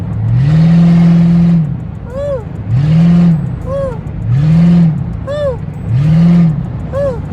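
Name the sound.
Ford Crown Victoria P71 car engine accelerating loudly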